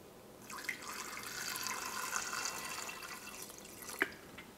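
Water streams into an Instant Pot over raw chicken, a steady splashing pour running for about four seconds with a brief louder splash near the end, close and alone with no talk.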